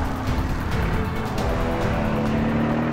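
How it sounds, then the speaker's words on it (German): A Mercedes-AMG SL 63 drives at high speed, well beyond 200 km/h, with a steady, loud engine and road roar that does not let up for the whole stretch. "Mühelos erreicht der SL Geschwindigkeiten weit jenseits der 200 km/h."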